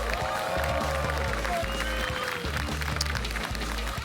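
Steady roar of a large arena crowd at IEM Katowice 2022, a StarCraft II esports event, sustained clapping and cheering that stays loud throughout, with a deep rumbling bed underneath.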